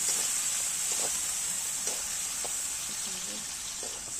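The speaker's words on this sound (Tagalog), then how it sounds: "Magigisa po tayo ng sibuyas, bawang, kamatis para sa ginisang munggo ngayong hapunan." Onion, garlic and tomato sautéing in a pan for ginisang munggo, giving a steady, close frying hiss with a few faint stirring clinks throughout.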